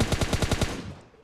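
A burst of about seven rapid gunshots from the PUBG Mobile game, evenly spaced and fairly close, with the last report trailing off into a fading echo and no talking.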